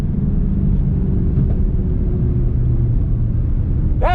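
Race car launching down a drag strip, a loud continuous low rumble heard from a distance that holds steady, with a brief sharp sound at the very end.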